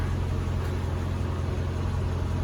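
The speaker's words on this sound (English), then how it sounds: "I'll press that. It will now lower the car" A Mercedes E55 AMG W211 sits with its engine humming steadily while the air suspension lowers the car, giving a continuous low mechanical drone and a faint hiss, close and even, with no talking.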